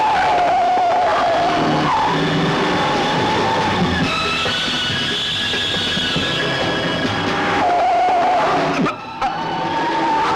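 A car driving fast, a loud sustained engine roar with whining tones and rushing wind, rising and shifting pitch, with a brief drop near the end.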